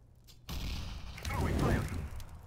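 An incendiary grenade goes off in Counter-Strike: Global Offensive with a sudden onset and then a roaring, crackling burst of fire that swells and holds, amid other game noise.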